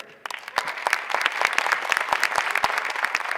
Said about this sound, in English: Is the applause proportional to the representation in the audience?